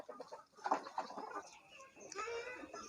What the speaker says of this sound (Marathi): अयो आता अंड देऊन आली कोंबडी